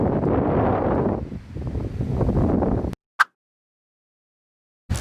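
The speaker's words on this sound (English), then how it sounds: "So windy." Loud, gusting wind buffets the microphone for about three seconds with a low roar, then cuts off into near silence broken by a brief sharp knock.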